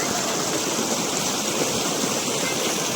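Water rushes continuously in a flowing stream, a loud, unbroken splashing roar nearby.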